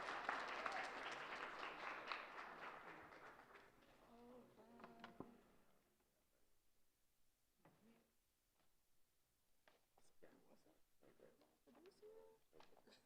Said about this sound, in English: round of applause for Hanais.